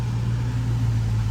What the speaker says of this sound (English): His first time driving the Hellcat